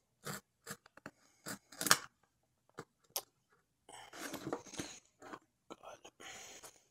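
Scissors or a blade cutting through a cardboard box during an unboxing, with close crackling snips and scraping cardboard in short bursts, followed by rustling, and a voice whispering partway through.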